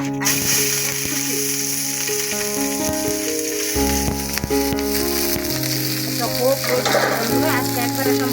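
Chillies fry in hot oil for a tilapia curry, a loud, continuous sizzle and spatter heard under steady background music.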